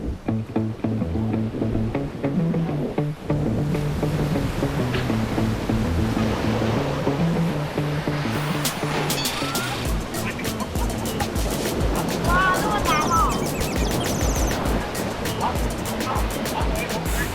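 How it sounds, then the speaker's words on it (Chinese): Big ocean surf with a strong current rolls at a surfing spot. It makes a continuous, full roar of breaking waves that sits under music and people's voices. "因为今天真的浪会比较大一点，海流很强，所以他们会很辛苦"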